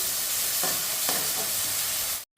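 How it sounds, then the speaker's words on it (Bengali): Ginger paste goes into a hot frying pan for aloo dum, a loud, even sizzle with two soft stirring knocks, ending in an abrupt cut to silence. "এখন আমি দিয়ে দেব আদা বাটা"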